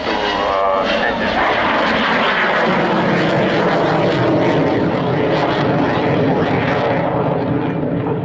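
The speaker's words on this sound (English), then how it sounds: "This is a very impressive aircraft, the Grippen" A Saab Gripen jet fighter at the Waddington air display, its loud engine roar with pulsing, rippling harmonics running under people talking nearby.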